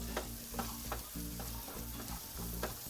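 White onions sizzle and crackle steadily in a hot pan while frying for sisig, with soft stirring scrapes recurring at a regular pace, close and alone.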